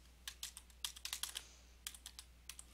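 Keys on a computer keyboard are struck while entering commands in GeoGebra. About fifteen crisp, close keystrokes come in quick uneven bursts with short pauses between them, with no voices.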